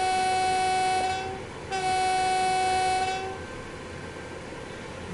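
A train in Train Sim World 5 on the West Coast Main Line, with a loud two-part horn blast over the steady rumble of the running train, the rumble quieter after the horn stops.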